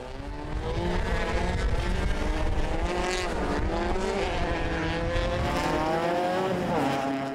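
A race car sliding on ice during a G Series ice racing round, its engine revving loud and steady with wavering pitch as it skids, close and continuous without any talk.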